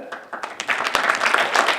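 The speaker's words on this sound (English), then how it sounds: "I will order all audience to give a big clap" An indoor audience at a question-and-answer session bursts into brief applause, a dense patter of many hands clapping, fairly close and swelling over under two seconds.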